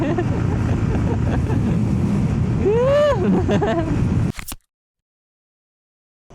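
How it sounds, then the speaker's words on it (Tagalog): Strong wind buffets the microphone on a moving Yamaha XSR155 motorcycle in a loud, continuous roar, with a rising whistle partway through before the sound cuts out. "Lakas ng hangin!"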